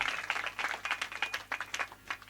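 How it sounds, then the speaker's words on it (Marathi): An audience at a kirtan gathering breaks into fairly faint applause, with uneven bursts of clapping from many hands scattered across a couple of seconds. "जांबवंतजी महाराज माळी यांच्यासाठी एक वेळा सर्वांनी टाळ्या वाजवायच्या"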